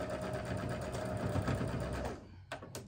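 A sewing machine stitching a seam on a quilt block, with a steady fast motor whir and needle chatter that runs for about two seconds, then stops, followed by a couple of small clicks.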